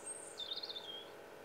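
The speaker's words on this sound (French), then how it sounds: "On entend les oiseaux?" Birds chirping outdoors, a short faint twittering phrase of high quick notes over quiet background hiss, distant and alone.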